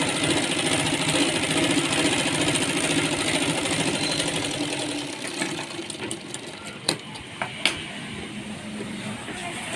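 Sewing machine stitching the corner of a Punjabi dress pant, a steady continuous motor whir throughout, with a few sharp clicks near the end as the stitching stops.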